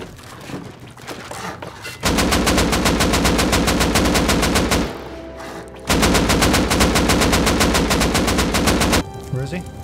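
Rapid automatic gunfire in the online survival game Rust, two long sustained bursts of evenly spaced shots, loud and close, with a short pause between them.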